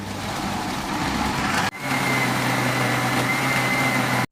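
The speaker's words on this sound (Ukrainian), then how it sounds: "Перемелюємо печінку в блендері" A loud, steady motorized whir of a blender grinding liver, briefly cutting out for a moment before resuming at full strength until it stops.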